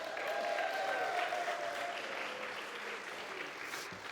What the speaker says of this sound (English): Clap loud for Pastor Mark.